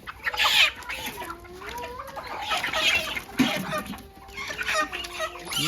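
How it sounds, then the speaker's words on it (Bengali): Chickens at a poultry farm cluck and squawk nearly nonstop while being loaded into a vehicle, with several birds calling at once close by amid handling noise. "কিভাবে মুরগিগুলা লোড দিতেছে গাড়িতে"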